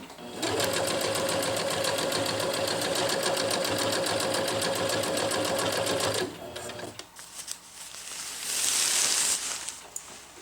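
A sewing machine stitches a zipper onto a Nova Harmony jungle hammock in a steady fast run for about six seconds, then slows and stops among fabric rustling and handling noise, close up.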